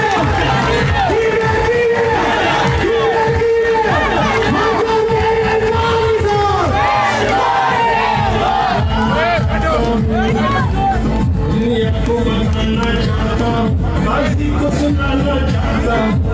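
A large crowd at an outdoor political corner meeting in Union Council Nikapura cheers, whoops and claps loudly and continuously, with shouted voices and babble mixed throughout.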